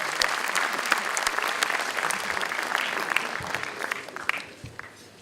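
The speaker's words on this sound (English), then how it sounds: "may I have a big round of applause for His Excellency" Audience at an international conference applauds a guest of honour, a dense sustained clapping that fills the room and slowly tapers toward the end, with no talk over it.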